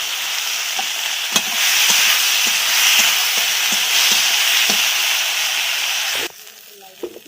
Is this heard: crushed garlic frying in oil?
yes